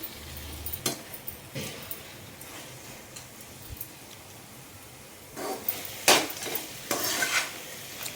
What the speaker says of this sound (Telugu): మనం ఆల్రెడీ ఫ్రై చేసి పెట్టుకున్న డ్రై ఫ్రూట్స్ని దీంట్లో వేసుకుందామండి